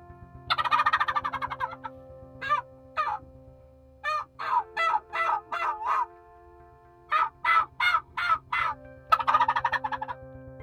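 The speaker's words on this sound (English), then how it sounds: "We could hear the birds out in front of us about 200 yards." Wild turkeys gobble repeatedly in answer to a hunter's snuff-can call, sounding as bursts of rapid, rattling gobbles and clucks that come in clusters over several seconds, clear against quiet surroundings.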